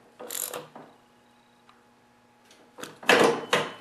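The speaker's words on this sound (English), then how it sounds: "with a 1/2-inch socket and ratchet, I'm just going to tighten it up" A 1/2-inch socket and ratchet tightening bolts on a snowblower drive axle, giving two separate bursts of quick metallic clicking with a quiet pause between them, close and fairly loud.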